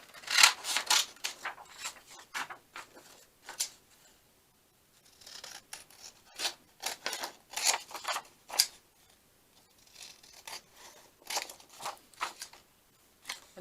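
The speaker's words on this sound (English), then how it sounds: "I'm going to cut my piece bigger." Scissors snip through a piece of paper card in a series of crisp, close cuts, with short bursts of rapid snips separated by brief pauses.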